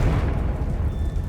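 A Confringo spell explosion in Hogwarts Legacy, a deep rumbling boom that swells and rolls for about a second, heavy in the low end and close.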